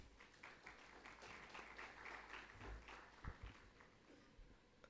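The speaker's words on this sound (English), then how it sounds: "Please give him a big round of applause." An audience at a smart city summit in Delhi gives a speaker a round of applause, a soft, distant patter of many hands that stays steady for a few seconds.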